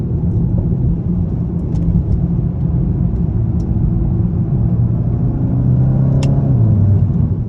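A 2022 VW GTI with the 7-speed DSG accelerates hard, its loud, close engine drone steady throughout, then rising in pitch and shifting near the end, with no talking.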